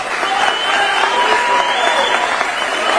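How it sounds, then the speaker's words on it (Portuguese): A crowd at a political gathering gives a sustained round of applause for Jair Messias Bolsonaro, a loud, dense wash of clapping with faint crowd noise mixed in. "uma salva de palmas para Jair Messias Bolsonaro, nosso eterno presidente"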